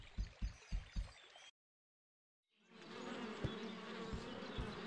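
Bee buzzing in the Winnie the Pooh's Rumbly Tumbly Adventure video game for PS2 and GameCube: a steady swarming drone fills the clip, broken by a second of silence, with a few soft thumps at the start.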